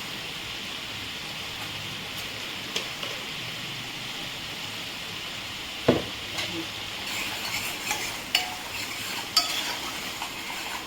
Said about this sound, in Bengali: আর একটু কষিয়ে নিই